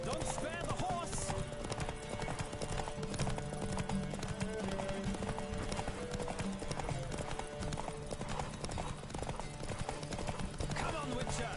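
Hooves clip-clop in a fast, steady rhythm as a horse gallops in The Witcher 3 video game, close and continuous, with voices speaking over the hoofbeats.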